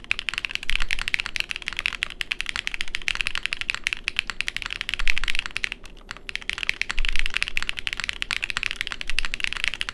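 Continuous fast typing on a rebuilt Geon F1-88 plateless mechanical keyboard, close and crisp, a steady stream of clacky keystrokes with brief pauses and occasional heavier spacebar-like thumps.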